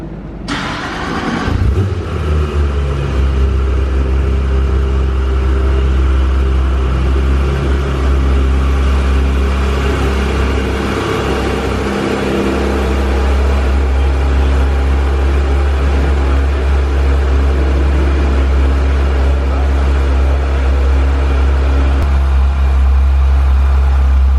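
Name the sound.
car engine started with exhaust button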